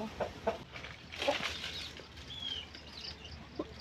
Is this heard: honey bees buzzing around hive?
no